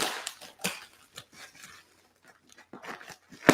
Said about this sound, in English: I'm getting the scissors and